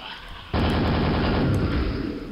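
Sustained weapon fire in Quake, a sudden loud onset after a brief quieter lead-in, then a dense continuous roar of rapid shots holding steady to the end.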